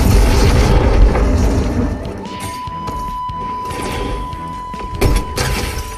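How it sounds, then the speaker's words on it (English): Grenade blast during a Fortnite match, a heavy boom at the start with a second crashing burst near the end, loud over dense game noise and a steady tone. "Somebody's got grenades."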